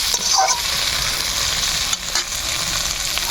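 Food fries in oil in a pan, giving a loud, even sizzle throughout with occasional stirring scrapes.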